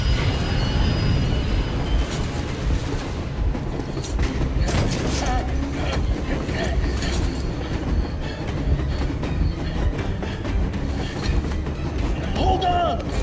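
A train rumbles past in the video game Metro Exodus, heavy wheel clatter and metallic rattling with a few squeals, loud and close for the whole stretch, with voices speaking over it.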